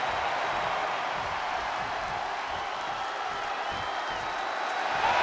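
A wrestling arena crowd in WWE 2K24 roars and applauds in a steady, dense wash of noise that swells slightly at the end, with no voices standing out.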